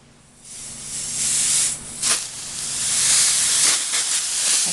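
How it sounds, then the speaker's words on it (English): A steady, loud hiss of air blown over alcohol ink on a tile to dry it, swelling and fading over several seconds with brief gusts. "Sprinkle a little bit of air just to dry it."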